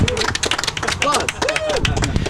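Scattered applause rises from an event crowd, with clusters of hand claps ringing out while voices talk over them.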